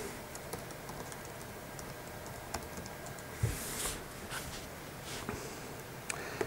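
Computer keyboard typing into a search box: soft, quick clicks in short bursts with small pauses, fairly quiet over faint room noise.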